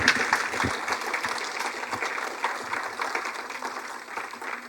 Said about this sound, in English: please give him a very big applause.